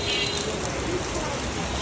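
Heavy rain falls steadily on surfaces nearby, a dense continuous hiss of drops with no pause.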